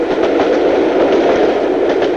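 A train rumbles steadily past an automatic half-barrier level crossing, a loud, continuous roar with faint rhythmic clatter of wheels on rails and no voices.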